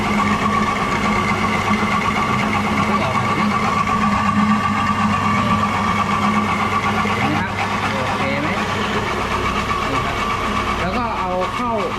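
An engine-driven grinding mill for milling fishing bait runs steadily at a loud, constant drone throughout, with someone talking over it near the end.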